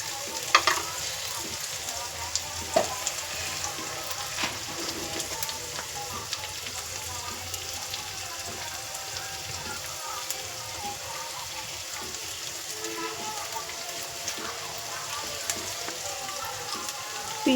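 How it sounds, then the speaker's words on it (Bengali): Onions frying in a small amount of oil, a continuous soft sizzle and crackle with occasional light stirring taps, steady and close throughout. "পেঁয়াজটা লাল লাল করে ভেজে নেব। অল্প তেলেই রান্নাটা করব।"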